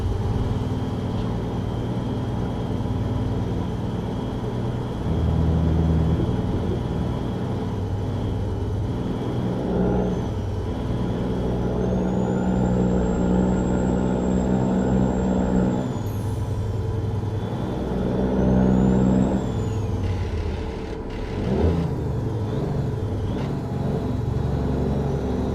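A Western Star truck engine in American Truck Simulator drones with a low, steady rumble, rising and falling with shifts and revs, a high whine sweeping above it and a brief air hiss near the end.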